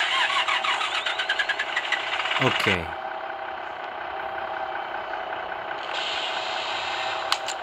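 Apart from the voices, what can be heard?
Irisbus Agora bus engine starting, Bus Simulator 2020 video game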